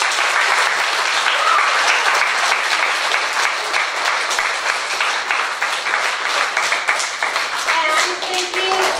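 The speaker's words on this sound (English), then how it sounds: "So give everybody one more big clap." An audience claps loudly at a Year 2 school Christmas concert, dense, sustained applause filling the whole stretch, with a voice faintly heard toward the end.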